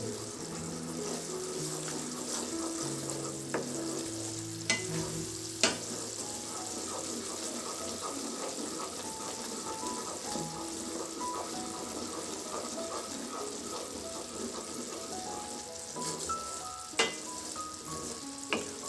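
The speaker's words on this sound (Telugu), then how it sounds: "ఒక చెంచా నెయ్యి వేసుకుందాము బాగా కలబెట్టాలి" A spoonful of ghee stirred into a pan of cooking sweet syrup, a continuous bubbling sizzle with occasional spoon clinks against the pan and faint tonal background sounds.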